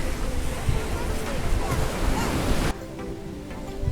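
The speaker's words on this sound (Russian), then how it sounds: "У нас тут такой вот пляж Камполонго" Surf washing in at Campolongo beach, a broad steady wash of waves with wind rumble that drops in level partway through, close and continuous, with no talk.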